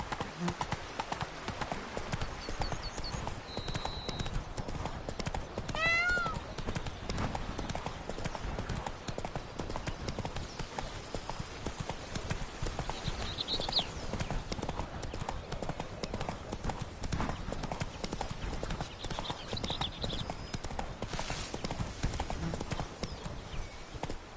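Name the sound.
horse Roach galloping hooves, from video game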